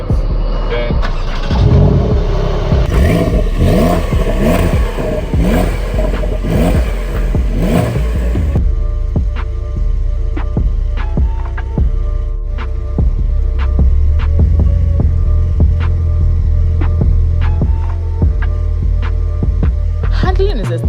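A 2020 Porsche Carrera S coupe engine fires up loudly and revs, then settles into a steady, rumbling idle. The sound is close and continuous, and a voice talks briefly over it.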